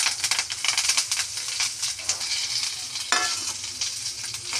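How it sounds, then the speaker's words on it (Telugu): Curry leaves frying in a little leftover oil, giving a steady close sizzle with crackling bursts and a few stirring scrapes. "ఇంకా కొద్దిగా ఆయిల్ ఉంటుంది కదా, దానిలోనే కొద్దిగా కరివేపాకు వేసుకోవాలి."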